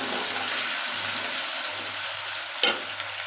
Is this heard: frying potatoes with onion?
yes